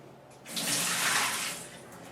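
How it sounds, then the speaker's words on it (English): Soaking water from nuts draining through a strainer into a sink, a brief rushing pour that swells, holds for about a second and fades, close and fairly loud with no talk. "So you're going to strain out the water"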